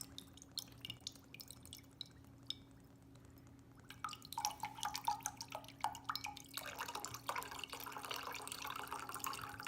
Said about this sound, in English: pour the coconut water right out of the cup